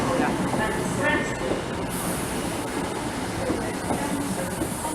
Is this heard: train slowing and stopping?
yes